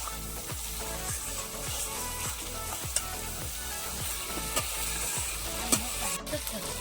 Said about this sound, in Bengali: এইবারে আমি দিচ্ছি কাজু বাদাম বাটা। কাজু বাদাম বাটাটা দিয়ে কিন্তু নাড়তে হবে, কারণ না হলে নিচে লেগে যেতে পারে।